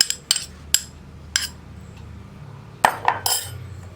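A spoon clinks and scrapes against a bowl while egg bajji batter is mixed with green chillies and coriander leaves, giving a few sharp taps near the start and a cluster of clatters toward the end, fairly close and quiet.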